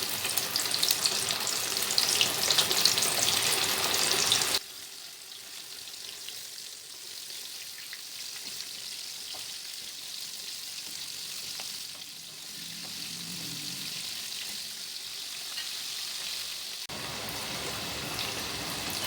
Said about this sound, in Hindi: इसको मीडियम आंच पर हमें फ्राई करना है, ज़्यादा तेज़ आंच नहीं रखनी है।